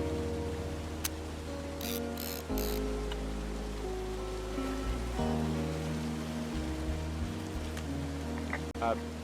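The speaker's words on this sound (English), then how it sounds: "It's a really nice waterfall down here." A waterfall in the game Firewatch gives a soft, steady rush of falling water beneath sustained music tones, faint and continuous throughout.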